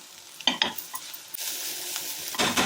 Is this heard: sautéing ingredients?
yes